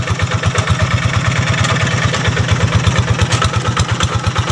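Kubota tractor engine running in a rice field, a loud close diesel with a fast, even chugging beat and metallic clatter, steady throughout with no speech.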